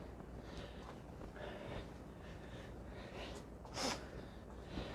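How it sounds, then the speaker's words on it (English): A person with a cold sniffs during a HIIT workout. Two short, sharp sniffs come late amid soft breathing and background noise, and no one speaks. "so about the sniffing, I seem to have picked up a bit of a cold reaction from something"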